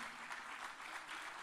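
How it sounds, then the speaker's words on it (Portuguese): Congregation applauding at a church service, a steady, dense wash of clapping that holds at even loudness throughout, with no voices over it. "Vamos aplaudir bem forte"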